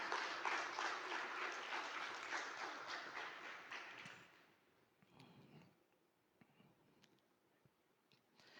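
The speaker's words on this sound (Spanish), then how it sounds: "Dale un gran aplauso al Señor." A church congregation applauds during a Spanish-language sermon, loud, dense clapping for about four seconds, then fading to scattered claps and quiet room noise.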